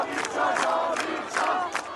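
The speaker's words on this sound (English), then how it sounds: "we hear crowds chanting, "Death to the dictator," "Death to the oppressor,"" A crowd of protesters in Iran chanting in rhythmic unison, with repeated shouted phrases rising and falling in a steady cadence, distant and somewhat muffled.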